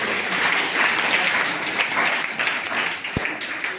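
A hall audience at a spiritual discourse claps in welcome, a dense, steady wash of applause that holds loud and even throughout.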